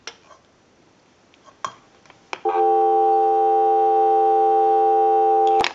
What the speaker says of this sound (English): Now what we can do is go ahead and give you some dial tone.